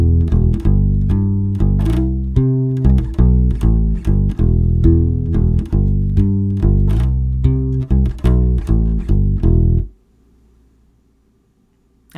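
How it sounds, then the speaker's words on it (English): A bass guitar plays a funky groove built mostly on octaves with a slide. Close, loud, rhythmic plucked notes run for about ten seconds, then stop and leave a quiet hum. "it relies mainly on octaves with a little slide in there just for fun"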